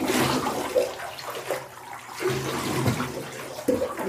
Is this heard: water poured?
yes